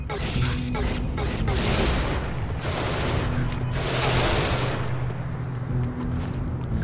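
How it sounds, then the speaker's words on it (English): Gunfire in the sci-fi video game Genesis Alpha One: a dense, continuous barrage of loud weapon bursts and booms that fills the whole stretch, with no pause and no voices. "Yep, draw him to the gunfire."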